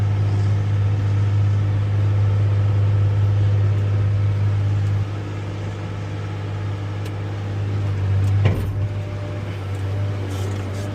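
A red work truck with a 7.3 diesel engine idling nearby, a steady low rumble with a constant hum that drops slightly in level midway, plus a brief clatter near the end.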